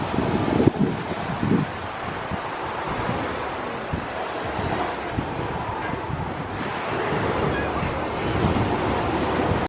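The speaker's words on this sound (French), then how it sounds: "avec le bruit de la mer" Sea waves washing onto a beach, a steady broad roar of surf with wind buffeting the microphone throughout, and occasional brief voices over it.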